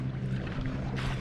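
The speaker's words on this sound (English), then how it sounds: "These jokers are towing an entire dock of a jet boat." A jet boat towing a dock on a lake gives off a low, steady engine drone with wind buffeting the microphone, heard in a short, fairly quiet stretch.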